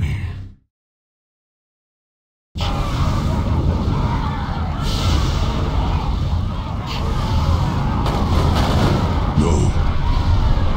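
Dense, continuous rumble of artillery fire and explosions in a Warcraft 3 cinematic battle, bursting in after a brief silence and staying loud throughout, with a shouted voice briefly over it.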